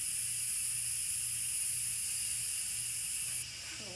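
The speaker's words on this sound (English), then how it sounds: "So I am letting the rest of that steam come out." Instant Pot pressure cooker releasing steam, a steady loud broadband hiss that holds for about three seconds, then drops abruptly to a quieter hiss near the end.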